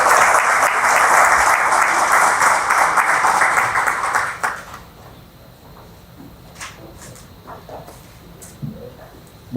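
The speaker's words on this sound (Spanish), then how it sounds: "Por favor, muchos aplausos." An audience claps for a speaker at a lecture on narcotics-trafficking jurisprudence, a loud, dense round of applause that stops abruptly about halfway, leaving a quiet room with scattered small knocks and shuffles.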